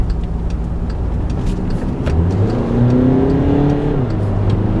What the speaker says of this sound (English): right now I'm rolling around in a poop-colored diesel Jetta